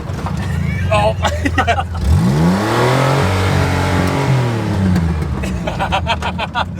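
A rough, Bondo-filled Chevrolet Corvair's engine revs up as the car starts rolling, the pitch sweeping upward and holding a loud, strained drone before easing off, with people exclaiming over it at the start and end.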